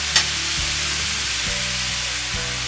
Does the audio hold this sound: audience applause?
no